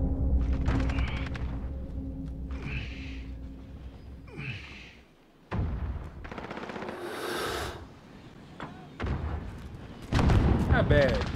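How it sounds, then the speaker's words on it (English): Gunfire and crossfire in the Call of Duty Modern Warfare video game, with bursts of machine-gun fire and booming shots spread across the clip, loud and continuous, alongside game effects and brief vocal sounds. "I got caught in the middle of a crossfire"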